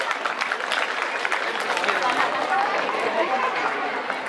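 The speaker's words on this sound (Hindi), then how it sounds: "प्लीज जोरदार तालियां" Audience applause honoring students selected for engineering and medical colleges, a dense steady clatter of many hands clapping at an indoor ceremony, sustained and fairly loud throughout with faint crowd murmur mixed in.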